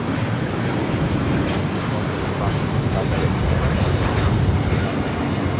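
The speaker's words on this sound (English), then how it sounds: "This is All Nippon Airways Flight 5 taking off to Tokyo Narita on a 787-9 Dreamliner." ANA Boeing 787-9 Dreamliner taking off from LAX for Tokyo Narita, a steady broad jet roar heard from a distance with some wind, while a person talks over it.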